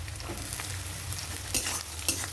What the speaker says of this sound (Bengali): আলুটাও ভেজে নেব